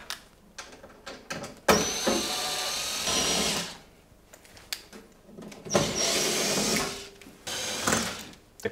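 A power tool whirs in several bursts while unscrewing four screws from the pump of a tumble dryer, close and loud, with short pauses and small clicks between the runs.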